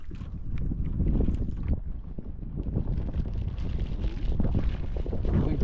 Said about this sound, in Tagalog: Uy, hangin naman ulit.